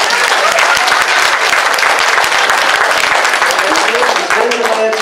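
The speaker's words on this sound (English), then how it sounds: "Give him a round of applause for that." A crowd at a community meeting on the Flint water crisis breaks into loud, dense applause, sustained clapping close by with cheers and voices mixed in throughout.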